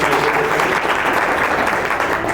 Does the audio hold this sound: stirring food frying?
no